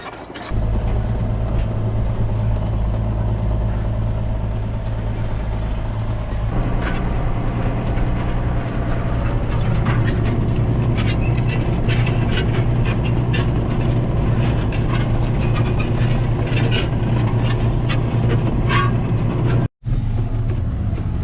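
A tractor pulls a disc harrow across a field, and one harrow tire is a little low. The engine gives a loud, steady, close drone with a rumbling low end that holds through the whole clip, with a brief cutout near the end.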